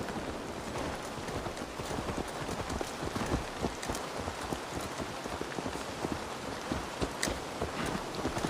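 A horse walks in Assassin's Creed Valhalla, its hooves clip-clopping steadily amid a dense rain-like wash of ambient noise, with no one talking.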